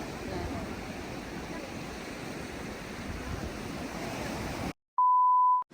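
Sea waves wash steadily onto a beach in Sulu, giving a continuous broad surf roar that is fairly close and alone. It cuts off abruptly near the end and is replaced by a short steady electronic beep.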